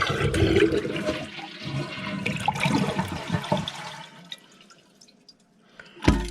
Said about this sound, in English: And now we'll flush it to empty the tank.